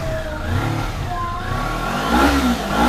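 A 250cc sport motorcycle engine revs hard with rising and falling pitch, loud and close, its combustion sounding unsteady at high revs.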